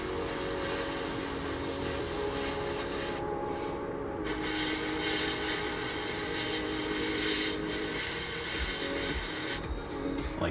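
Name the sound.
spray painting a 1/32 scale P-40E Warhawk model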